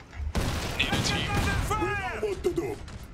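Dense battlefield gunfire from the video game Iron Harvest crackles in rapid bursts with thumps and booms, mixed with game voices and a player talking over it.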